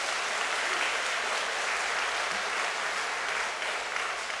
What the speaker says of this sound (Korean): 여기까지 인도하신 우리 하나님께 큰 박수로 영광을 올려드립니다